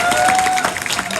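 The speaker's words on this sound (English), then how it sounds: "So why don't we give a round of applause for our panelists?" Brief burst of crowd applause for panelists at a comic convention debate panel, close and fairly loud clapping with some cheering that thins out quickly.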